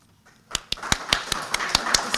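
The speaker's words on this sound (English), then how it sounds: "It's always good to start with applause" Steady, evenly spaced claps of a small group or single person at an evening youth awards ceremony, starting after a brief quiet and continuing at a brisk, regular rhythm, fairly close.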